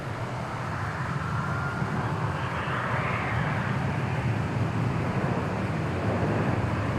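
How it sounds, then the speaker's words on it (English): Boeing 737 airliner passing at Dallas Fort Worth International Airport, a continuous moderate jet rumble that swells slightly in the middle and holds steady, no talking. "Hey, we get some 737 action here."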